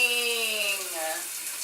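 Shower water runs steadily and close by in a bathroom, a continuous hiss and splash that fades slightly toward the end with no voices.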